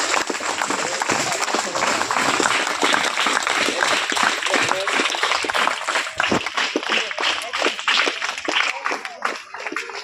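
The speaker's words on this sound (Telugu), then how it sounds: "అందరూ ఒకసారి చప్పట్లు కొడితే మేము ఒప్పుకుంటాం" A village audience claps together at a gathering, a dense, steady burst of applause from a crowd lasting around ten seconds, thinning toward the end, with voices heard amid it.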